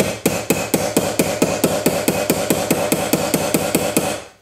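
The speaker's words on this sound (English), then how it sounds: "So the next thing I want to do is sort of hammer down the edges." A hammer strikes the edges of a reticulation silver cuff in a fast, even series of about twenty sharp metallic blows, close and loud, with no talking.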